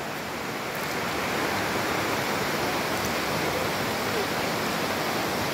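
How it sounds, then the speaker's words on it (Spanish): Clear mountain river in Colorado flowing steadily, a loud, dense and continuous rush of water that stays nearly even from start to finish, with no voices. "un río de agua cristalina"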